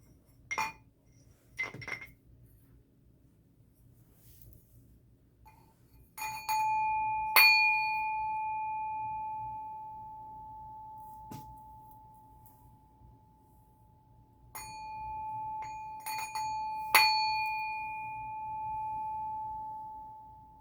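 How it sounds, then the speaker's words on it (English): Singing bowl being played: a few light clinking taps, then struck rings that bloom into long, pure, sustained tones fading slowly, repeated in a second round, quiet and close with no talk. "we want to go ahead and do the singing bowl"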